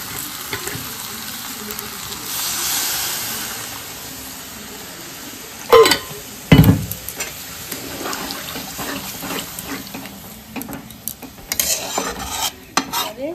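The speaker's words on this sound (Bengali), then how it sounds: "এবারে এতে গরম জল করে রেখেছি, গরম জলটা দিয়ে দেব" Hot water is poured into a potato curry in a frying pot and stirred, with a steady sizzling hiss, sharp clatters of a spoon against the pot and a bubbling wash of liquid.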